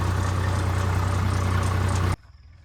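A tractor engine, an 855 hitched to a laser leveler in a field, runs with a steady, loud, low droning rumble up close for about two seconds and then cuts off abruptly to near quiet.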